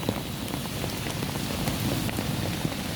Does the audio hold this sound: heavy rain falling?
yes